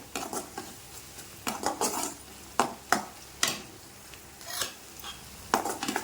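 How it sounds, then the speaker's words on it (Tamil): Turmeric powder is sautéed in a pan for tomato thokku, with a spoon scraping and knocking against the metal in irregular strokes over a faint, steady sizzle. "மஞ்சத்தூள் கொஞ்சம் போட்டுக்கலாம் போட்டு அதையுமே நல்லா வதக்கி ரெண்டு மூணு வதக்கி வதக்கி விடுங்க"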